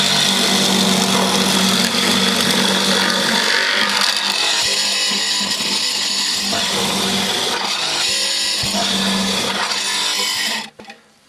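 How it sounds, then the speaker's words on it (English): A power tool cuts out the rest of a mortise in a timber door, a loud, sustained grinding roar with wavering pitch that runs for about ten seconds before cutting off abruptly. "Cutting the rest of the mortise out"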